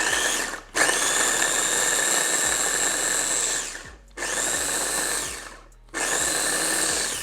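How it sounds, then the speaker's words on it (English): A blender chops parsley and garlic in three pulses, each a loud whirring motor burst of a few seconds separated by brief pauses, with no voices. "Go ahead and then just blend it until it's finely chopped up."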